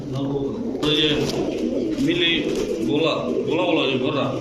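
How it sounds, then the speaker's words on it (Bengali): Male pigeons of several breeds, among them a red-necked chuithal and a black gorra, coo in a steady chorus, close and loud, with someone talking over them throughout. "নর কবুতর"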